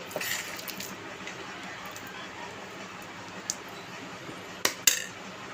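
Grated mango pickle is tipped into cooled oil and mixed. A soft, wet squishing and scraping runs steadily throughout, close up, and a couple of sharp clinks of a spoon against the vessel come near the end.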